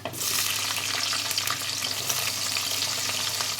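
Chopped onions drop into hot oil already seasoned with dried red chillies, garlic and mustard seeds, giving a close, loud, steady crackling sizzle that continues unbroken with faint stirring.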